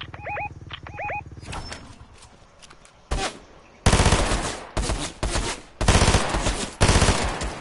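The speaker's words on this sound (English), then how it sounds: "And people shooting there" Bursts of video-game gunfire from a Fortnite Chapter 5 match, faint distant shots at first, then several loud, close rapid-fire volleys in quick succession with short gaps between them.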